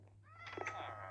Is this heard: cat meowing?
yes